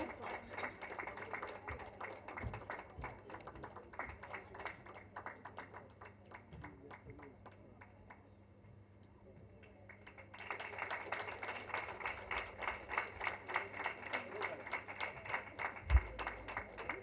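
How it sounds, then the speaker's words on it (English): Audience at an award ceremony in Mumbai applauding, steady dense clapping that thins out midway and then swells back loud and sustained, with a hum underneath. "So please keep applauding."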